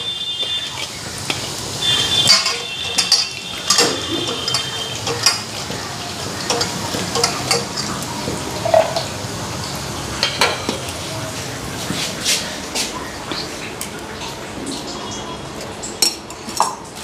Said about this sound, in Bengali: আলু লেসরা ভাজা। আগে লেসরাগুলি ভাজি,